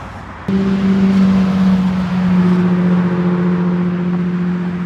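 A car drives past along Woodward Avenue during a Friday cruising outing, arriving with a sudden loud onset and holding a steady low engine drone with strong harmonic tones throughout, close and prominent with no talk.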